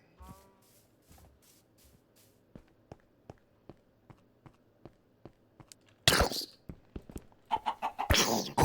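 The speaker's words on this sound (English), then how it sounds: "Nope, I was clearly hearing a chicken jockey." Minecraft chicken jockey in a survival game, heard as repeated soft clucks and footstep-like ticks in a steady rhythm, then louder bursts of game noise near the end.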